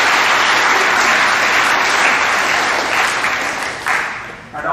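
Dense, steady applause fills a school awards assembly in the middle school gym, honoring back-to-back league champion girls; continuous crowd clapping that thins slightly near the end.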